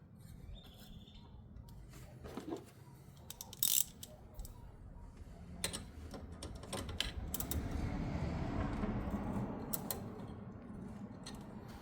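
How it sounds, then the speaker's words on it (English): Ratchet with a 13mm socket tightening an oil separator bracket on a 2.3L EcoBoost Ford Bronco, quiet clicking turns and clinks of metal, then a longer stretch of steady ratcheting near the end. "what you're going to need to do that is a ratchet and a 13mm socket"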